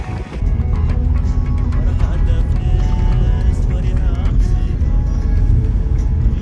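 A convoy of 4x4 vehicles driving across desert dunes in Tunisia, with a loud, close engine rumble and steady motor drone throughout, the engines surging at times.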